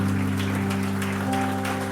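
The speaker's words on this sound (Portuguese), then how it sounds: "Você pode aplaudir a Senhor nessa noite." A church congregation claps during an evening service, a brief, dense wash of applause under a sustained organ or keyboard chord.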